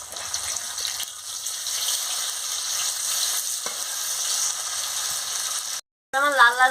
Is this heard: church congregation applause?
no